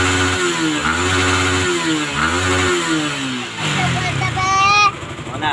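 A Yamaha Sniper 155 motorcycle engine, just restarted after a no-start fault, runs close by with a steady idle broken by several rising and falling revs, ending in a sharp throttle blip.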